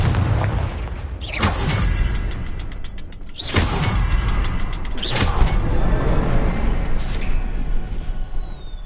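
A Confringo fire spell explodes in the video game Hogwarts Legacy. Several loud booming bursts crack out at intervals of about two seconds over a continuous rumbling, mechanical game backdrop.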